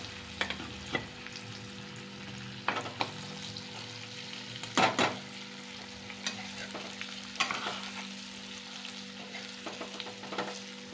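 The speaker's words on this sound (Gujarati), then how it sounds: "ભરેલ ભીંડાનું શાક વઘાર થઈ ગયો છે મસ્ત મજાનો હવે આને ધીમે ગેસે ચડવા દેવાનું" Stuffed okra curry with peanuts sizzles gently in a pan on a low gas flame after tempering, a quiet frying hiss broken by occasional spoon scrapes and clinks from stirring.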